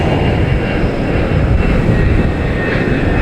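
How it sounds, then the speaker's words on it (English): Airliner jet engines roar at high power during a go-around at Boston Logan Airport, a loud, continuous broadband rumble and hiss with no talking. "Whoa, we have a go around."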